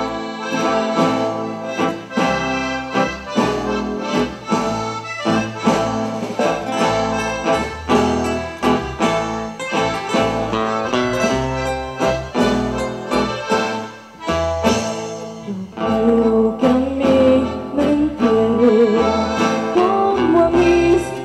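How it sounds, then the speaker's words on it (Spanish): Ecuadorian music performed live by a singer with band at a municipal event in Sangolquí, dense full-band sound with steady rhythm and sustained melody, loud and continuous throughout with no talking. "vamos a cantar nuestra música ecuatoriana y esto suena así."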